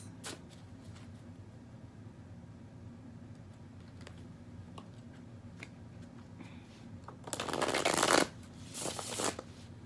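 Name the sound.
shuffling cards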